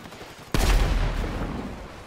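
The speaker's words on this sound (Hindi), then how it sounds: "कोई कहीं से गोली मारता है, कोई कहीं से गोली मारता है यार" A sudden loud burst of gunfire in GTA Online erupts after a brief quiet moment and trails off into a rumbling echo, with no talking over it.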